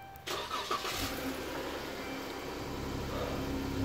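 A 2014 Dodge Charger V6 engine cranks and catches, then settles into a steady, close idle with a full mid-range hum.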